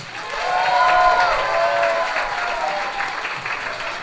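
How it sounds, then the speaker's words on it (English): Audience applause for the catechists at a Parents Day program, a steady wash of clapping from a sizable crowd that swells early and holds for the full four seconds. "They deserve a big round of applause."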